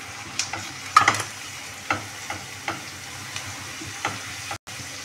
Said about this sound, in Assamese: গোটেইখিনি মছলা ৰেডি কৰি ৰাখিছিলোঁ, দি দিওঁ ইয়াত।